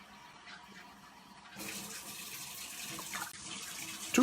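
A tap turns on partway through and hot water streams steadily into a sink, a continuous hiss close by.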